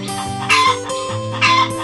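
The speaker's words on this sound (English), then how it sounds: "This is a hen." Two short hen clucks over a steady, tonal musical background.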